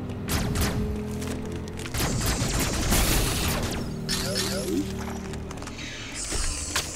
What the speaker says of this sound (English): those must be missiles I've been picking up from the enemies